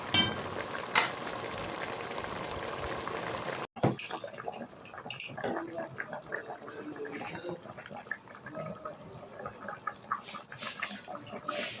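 Beef yakhni simmers in water in a cooking pot, giving a soft, continuous bubbling and sizzling hiss. A brief clatter breaks in partway through, and a voice talks over the cooking.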